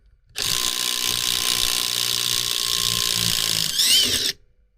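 A Keyang ID16BL-150I cordless impact driver drives a long Torx 40 screw, about 25 cm, in one steady loud burst of rapid hammering lasting roughly four seconds, with a brief higher whine near the end before it stops.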